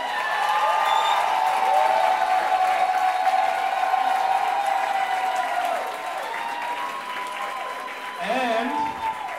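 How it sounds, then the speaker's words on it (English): A crowd at a Latin American all-style dance battle semi-final cheers and applauds a dancer, a dense, sustained roar of clapping and whoops that stays loud and full before easing slightly, with a voice briefly rising near the end. "So make some noise for Chego, everybody."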